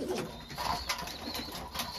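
Pigeons coo softly in a loft, a faint, low murmuring call repeating a few times over a steady background hiss.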